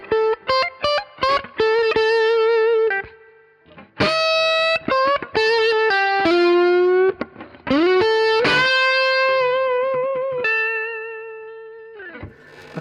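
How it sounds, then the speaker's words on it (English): Electric guitar through an Origin Effects RevivalDRIVE overdrive pedal plays sharp staccato stabs, then longer sustained distorted notes and chords that ring out and fade, loud and up close with no voices. "So this is the overdriven sound."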